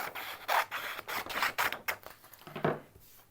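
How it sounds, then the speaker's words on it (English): Scissors cut through a printed paper sewing pattern along the line, a series of close, dry rasping snips in an irregular rhythm, with no talking. "I like to trim along the line"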